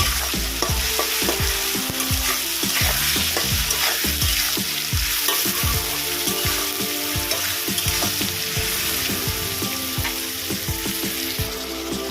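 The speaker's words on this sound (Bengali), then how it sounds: "এক চামচ পরিমাণে আদা রসুনের পেস্ট এটাকে ভালো করে কষিয়ে দিই" Fish head being stir-fried in a pan with salt and ginger garlic paste, continuous loud sizzling punctuated by frequent rhythmic scraping and clacking of a spatula stirring the mixture.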